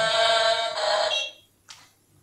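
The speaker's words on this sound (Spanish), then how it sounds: "También tiene pitido de marcha atrás, como veis." The reverse warning beeper of a 1/20 scale 2.4 GHz RC dump truck gives a loud, shrill electronic beep lasting about a second and a half, followed by a short faint blip, close and alone.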